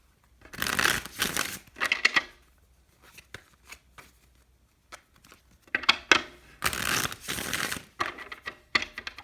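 Tarot cards shuffled close up in two clusters of crisp riffling bursts with brief taps and rustles between, separated by a quiet stretch.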